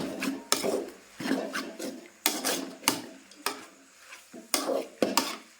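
Vegetable pulao with turmeric powder being stirred in a pan, a spoon scraping and rasping against the metal in repeated strokes with a faint sizzle underneath, close and fairly loud.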